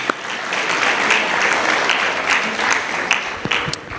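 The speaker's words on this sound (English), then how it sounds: "so give him another round of applause" Sustained applause from a primary school graduation ceremony audience for a graduating boy from the dance group, steady and fairly loud throughout with a few sharper claps near the end and faint voices underneath.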